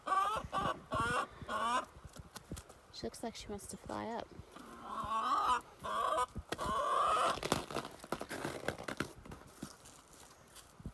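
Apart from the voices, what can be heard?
chickens clucking in a coop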